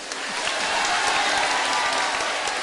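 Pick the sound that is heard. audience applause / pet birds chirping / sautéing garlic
audience applause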